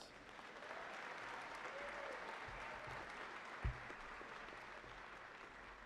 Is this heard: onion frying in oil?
no